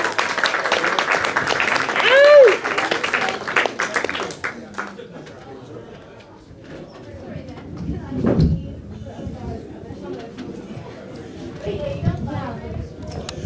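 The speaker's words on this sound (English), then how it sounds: "I want you to clap it up for Mr. James Patterson, everybody" Applause from an open mic audience at a gallery brew house greets a comedian, steady and dense for about four seconds with a whistle, then fading into scattered claps, shuffling and murmured voices.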